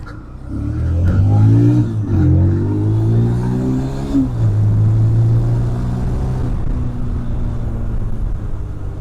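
A TVS Apache RTR 160 2V motorcycle on a city-road test ride revs and accelerates with a steady, close engine rumble that rises and falls, sounding on its own without talk.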